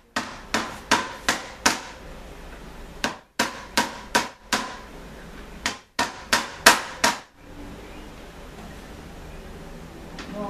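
A hammer strikes repeatedly on juniper placed between boards, crushing it in quick bursts of sharp knocks, pausing between groups, then falls quiet near the end.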